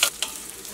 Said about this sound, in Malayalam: ഇനി ചുവന്നുള്ളിയൊക്കെ നന്നായിട്ട് മുരിഞ്ഞ് നല്ലൊരു ഗോൾഡൻ കളർ ആവണം.